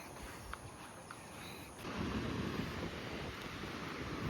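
Sea waves wash onto the beach at Baguran Jalpai in the morning, a soft, steady broadband rush that swells louder partway through, distant and faint with some wind noise.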